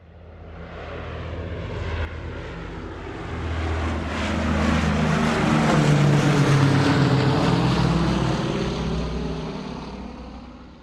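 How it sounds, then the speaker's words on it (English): An airliner flies from the Gold Coast to Melbourne, heard as a loud, steady cabin drone of engine and air rush that swells gradually and then eases slightly, with no talking. "Time head back on plane from Gold Coast back to Melbourne."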